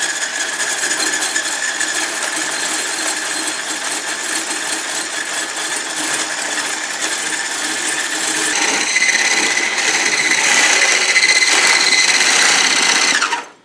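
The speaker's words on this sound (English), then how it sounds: "Add the sugar while you're whisking gradually." Electric mixer whisking egg whites with sugar added gradually toward stiff peaks: a steady, loud motorized whir that runs unbroken and rises slightly in pitch later on, then cuts off at the end.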